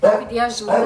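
A startled dog gives short yelps and whimpering barks close by, mixed with someone talking over them.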